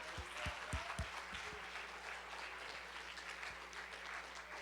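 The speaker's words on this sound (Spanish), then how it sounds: "Un aplauso para Él." Church congregation applauding at a Spanish-language evangelical service, a dense wash of clapping over low background hum, with a few sharper hits early on.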